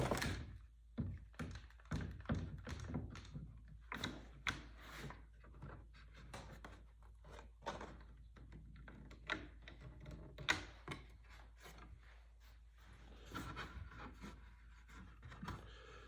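Wooden boards for a pirate-style toy chest being clamped together, a quiet series of irregular knocks, taps and rubbing thuds, close by and faint, with no talking.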